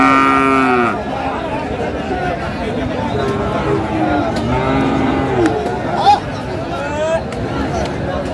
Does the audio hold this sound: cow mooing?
yes